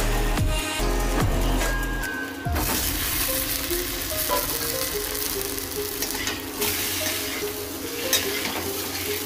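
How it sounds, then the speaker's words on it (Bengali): Potatoes fry in hot oil tempered with cumin seeds, a loud, dense sizzle that settles after an early burst, with stirring scrapes through it and no talk. "আর এবার ফ্রেন্ডস আমি আলুগুলোকে একটুখানি ফ্রাই করে নেব।"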